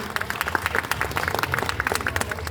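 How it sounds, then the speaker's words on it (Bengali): An audience at a Pohela Boishakh (Bengali New Year) celebration claps loudly as a guest is ceremonially welcomed, a dense, rhythmic burst of applause with a tuneful ringing note running underneath. "একটা জোরে হাততালি হবে"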